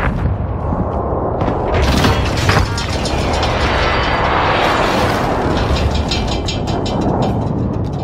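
Airstrike explosions in the Call of Duty Warzone video game rumble as a dense, continuous roar of booms and blasts, with a sharper hit near the two-second mark, loud and sustained throughout.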